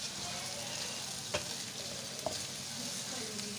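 Red chili and salt fry in a pan with a steady, even sizzle while a utensil is stirred through them, adding two soft scraping knocks. The sound is fairly quiet and continuous, and nobody speaks.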